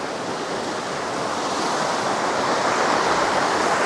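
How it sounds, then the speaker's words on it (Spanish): A roadside mountain river rushes in a continuous, broadband wash of flowing water that is fairly loud and close and builds slightly, with no voices. "nos topamos con el río."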